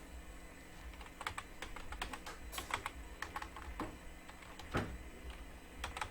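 Rapid, irregular typing on a computer keyboard, entering a query into an AI chat page, with steady clicky keystrokes close up over a low room hum and no talk.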